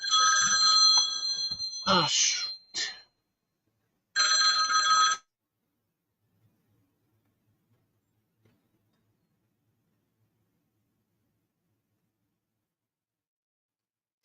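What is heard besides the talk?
cell phone ringing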